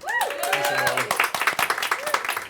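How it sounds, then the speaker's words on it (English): Audience at a fireside chat event clapping in a short burst of applause, moderately loud, the claps thinning toward the end, with some voices mixed in. "Can we get a big round of applause?"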